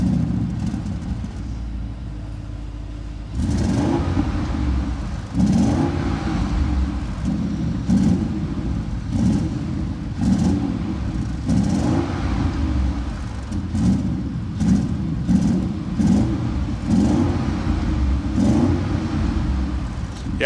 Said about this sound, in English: So now it's actually time to listen up to the sound of the RSQ8.